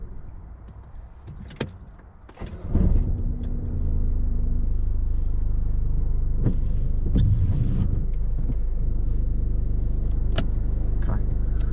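A car engine idles steadily with a low rumble after stopping at a T junction during a driving lesson, preceded by clicks and handling noises; the engine drone is continuous and fairly loud throughout.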